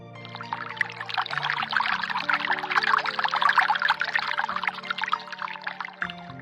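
Water pours from a jug into glasses in a home, a continuous close gurgling pour with rising pitch as each glass fills, accompanied by a sustained musical background.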